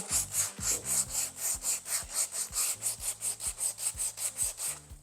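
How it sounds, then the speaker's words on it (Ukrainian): Rapid, rhythmic back-and-forth strokes of 120-grit sandpaper rubbing along the grain of an old wooden rifle stock, close up, with faint music playing underneath. "шліфуємо зерном п 120 за структурою"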